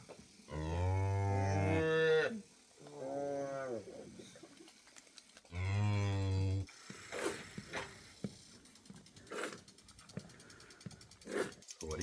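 A cow lowing right after giving birth to her calf, with long, loud harmonic moos near the start and again in the middle, then quieter rustling and scattered people talking.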